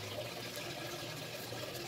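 A waterproof flashlight held in water, producing a soft steady watery rush and sloshing with faint gurgles, quiet and continuous with no talk over it.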